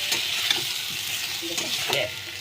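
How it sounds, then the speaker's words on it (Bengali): Ground coriander and cumin sizzle loudly in hot oil for a Bengali egg curry (dim kosha), a dense continuous frying hiss with a few spatula scrapes, close and without talk. "একটু ধনে গুঁড়ো আর একটু জিরের গুঁড়ো দিলাম। দিয়ে এবার এটাকে ভালো করে কষতে হবে।"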